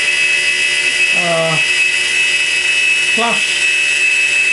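Metal cutter with a long overhang machining a radiator header tank held in a vise, a steady loud high-pitched cutting whine throughout, with a voice speaking briefly twice over it.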